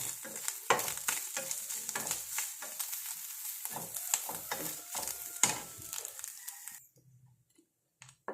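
Grated coconut roasts in a pan while being stirred, with close, dense sizzling and frequent scraping strokes that continue steadily and then stop abruptly near the end.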